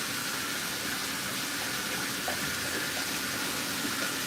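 A tap runs steadily during a dog's bath, a continuous close rushing of water with no breaks and no voices over it.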